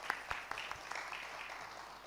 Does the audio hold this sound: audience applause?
yes